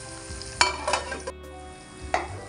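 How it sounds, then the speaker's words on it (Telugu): Fish fries in a pan with a lid, a gentle, steady sizzle marked by several sharp metallic clinks and clatters of the lid or utensil, close by and with no speech. "ఈ మూత పెట్టి ఫ్రై చేసుకుందాం."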